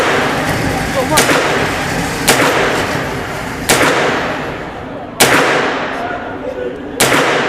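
Gunshots ring out at an indoor gun range in the UK, four or five sharp, loud reports spaced a second or two apart, each with a short echoing tail, over steady room noise and voices talking.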